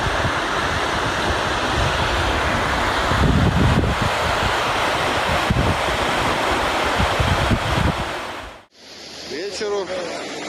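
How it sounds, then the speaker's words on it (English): Water at the Lake Berryessa glory hole spillway roars in a loud, continuous rushing wash for about eight seconds, then cuts off abruptly to a quieter scene with a voice. "glory hole at Lake Berryessa is a massive spillway that activates when the lake reaches full capacity"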